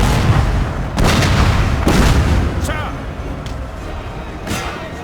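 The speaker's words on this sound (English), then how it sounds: "there's so much canister firing here, they can't really get close enough" Cannons firing canister shot in the Napoleon: Total War battle game, a run of heavy booming blasts repeating roughly every second over a dense, rumbling battlefield din, loud and close.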